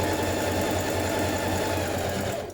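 A sewing machine runs steadily as it ease-stitches around the top of a cardigan sleeve, a loud continuous whirring hum that stops abruptly at the end.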